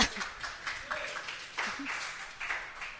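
A small café audience at a book talk claps softly in a scattered, low-level patter for a few seconds, with faint voices mixed in.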